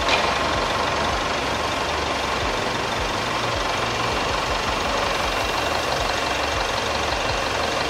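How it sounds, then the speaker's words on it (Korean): A Jaguar XE 20d diesel engine idles steadily with the bonnet open, a close, even rumble with a light knocking texture that holds without change for about eight seconds. "그리고 엔진 소리 일정하고 좋습니다."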